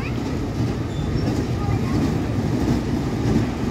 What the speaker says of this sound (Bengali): এদিকে আরেকটা রাইড এসছে, বাচ্চাদের ট্রেন এসছে।